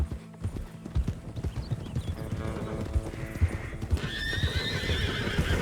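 Hooves clip-clop rapidly in a galloping rhythm, with horses neighing and whinnying over the pounding steps, in the video game Red Dead Redemption 2.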